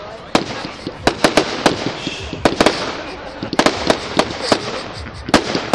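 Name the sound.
fireworks display exploding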